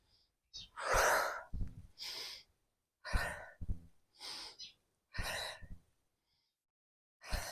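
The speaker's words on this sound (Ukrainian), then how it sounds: "Вдих, видих." Deep breathing during a lymphatic drainage exercise: six or so loud, close inhales and exhales in uneven bursts, separated by short silences.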